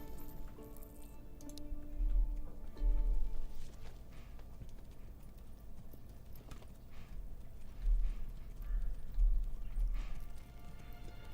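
Horse hooves clip-clopping in the medieval city-building game Manor Lords, a steady rhythmic plodding that swells in two louder bursts over faint background ambience, with no talking.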